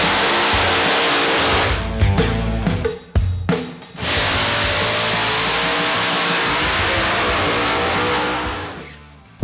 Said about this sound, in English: Me and Chuck were the first ones out, first set of cars down the track for the day